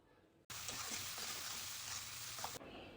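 Boiled taro pieces sizzle loudly in a pan with a little cumin powder, a steady close frying hiss that starts abruptly, holds for about two seconds, then drops back to a quieter background.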